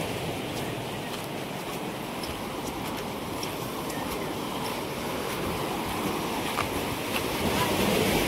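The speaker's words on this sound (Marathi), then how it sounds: "लाटा भाव इथे" Sea surf rolls against the Velas coast in a constant broad wash, loud and steady, with wind buffeting the microphone and no clear breaks between waves.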